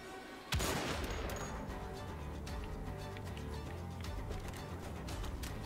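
A sniper rifle firing in Wolfenstein: The Old Blood, one sharp loud crack followed by a sustained rumbling echo and scattered fainter gunfire beneath it.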